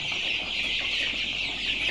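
Young broiler chickens and Asa Brown hens cluck and chatter nearby in a crowded pen, a dense continuous murmur of many birds.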